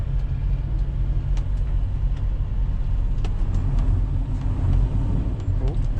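Car engine rumbling steadily as it is put in gear on a slick, cold road, a constant low drone with faint clicks and road noise throughout.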